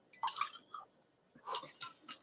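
Old Thompson whiskey poured from the bottle into a glass, a few short wet glugs and trickles in two brief bursts, close and quiet with no talking.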